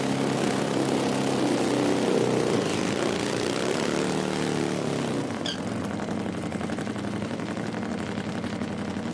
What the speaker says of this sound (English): The burnouts are interesting in Nitro Harley.